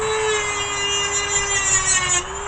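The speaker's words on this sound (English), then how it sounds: "Use a little die grinder." A small die grinder cuts through sheet aluminum pulled from a flat-screen computer monitor, giving a steady, loud high-pitched whine with a metallic screech layered on top that holds throughout before easing slightly at the end.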